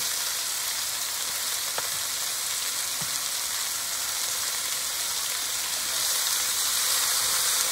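Smoked sausages and onions brown in a pan with an even, hissing sizzle throughout, broken by a couple of faint clicks.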